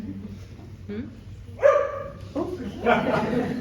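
Dog barks from within an audience at a talk or panel event, a few sharp barks near the middle and end, heard over a murmur of people speaking in the room.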